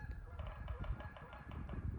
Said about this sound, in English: Oh, there go the geese. Can you hear that?